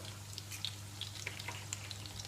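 About four eggs frying together in a pan as a giant omelette, a soft steady sizzle with scattered tiny pops over a low hum.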